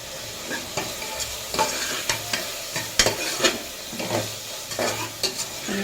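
Fish curry masala frying in a pan sizzles steadily while a spoon stirs and scrapes repeatedly against the metal, producing irregular knocks over the continuous hiss.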